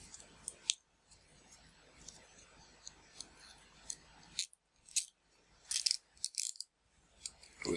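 Zip ties ratcheting tight on a Y-Z carriage assembly, a run of small close plastic clicks and snaps in irregular bursts, with quiet handling noise between them.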